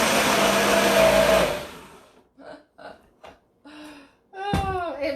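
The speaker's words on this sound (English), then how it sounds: "we're going to hope to not break the blender" A blender whirs loudly through a vegan cheesecake mixture with carrots, running steadily before spinning down and stopping, followed by a few short breaths or gasps.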